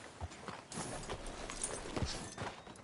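Horse hooves clip-clopping in a PS4 video game, a run of soft, fairly close thuds in a walking rhythm over a quiet background.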